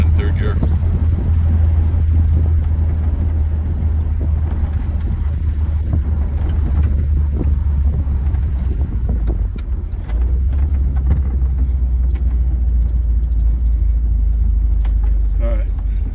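1940 Ford Deluxe Convertible Club Coupe driving in third gear, with a steady low engine rumble and heavy wind buffeting throughout and scattered speech over it.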